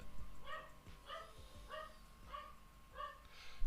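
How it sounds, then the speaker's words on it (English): A dog barks five times in the background at an even, unhurried pace, each bark fairly faint and distant, with no talking over it. "Trust my dog to start barking now."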